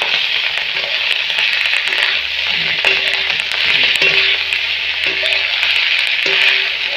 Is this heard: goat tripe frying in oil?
yes